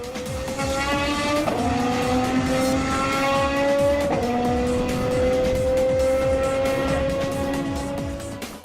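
A Maserati MC12 Corsa with a 6-liter 755-horsepower V12 screams at high revs. The loud, sustained engine note shifts pitch sharply twice as it changes gear, and tire noise sits beneath the engine.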